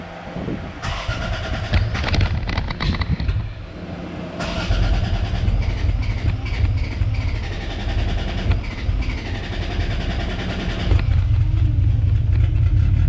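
A Lexus IS300 engine cranks and fires up close by, with rough starter churning, a short pause, then a steady, loud running rumble that swells near the end.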